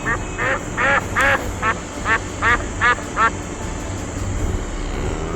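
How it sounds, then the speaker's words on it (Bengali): A duck quacks in a steady run of about nine loud, evenly spaced calls, close and alone, then stops, leaving a quiet background. "হাঁস,"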